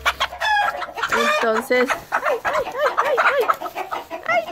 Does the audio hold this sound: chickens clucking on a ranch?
yes